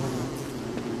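Bees buzz steadily in Don't Starve Together, a close, dense drone that holds without a break.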